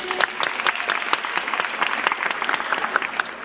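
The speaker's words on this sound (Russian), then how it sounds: "Аплодисменты." A room full of people claps at a circus press conference, dense and lively applause with sharp individual claps standing out, sustained at a strong, even level from start to finish.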